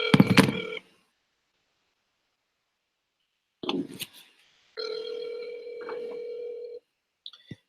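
An outgoing phone call rings with short electronic tones separated by silence, then a sustained steady tone as it forwards to automated voicemail, ending with a brief blip.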